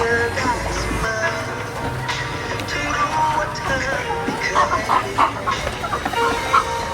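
Egg-laying hens at a school farm cluck repeatedly and irregularly close by, over a steady low background hum.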